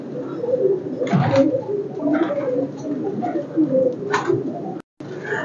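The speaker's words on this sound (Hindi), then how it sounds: "ये कबूतर है जो हजरत बाबा कायम साईं के दरबार पे माशाल्लाह रोजाना हजूर का जिक्र करते हैं" Pigeons coo steadily at the shrine of Hazrat Baba Qaim Sai in Faisalabad, a dense chorus of low, throaty murmurs from several birds, close and continuous with soft wing shuffles.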